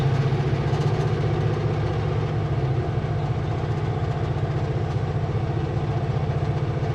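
A heavy truck's diesel engine rumbles steadily at low pitch while gears are shifted, a loud and continuous throb close to the cab with no pauses.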